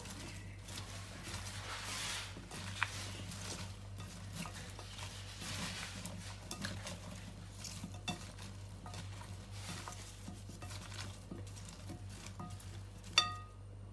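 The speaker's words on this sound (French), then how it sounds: "je vais bien mélanger" Fresh herbs and vegetables being stirred and tossed together by hand or spoon for a couscous dish, a soft continuous rustling and light wet patter with a faint steady low hum beneath and a small clink near the end.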